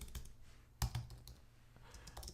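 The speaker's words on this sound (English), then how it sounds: "I can go ahead and start typing" Typing on a computer keyboard in a quiet room, a close run of soft, irregular key clicks with one louder tap partway through and no talk.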